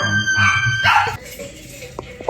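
A person outdoors at a forest birthday party makes a dog-like howling, yipping vocal sound, fairly loud and close, followed by quieter background noise and small knocks; a voice imitating a dog.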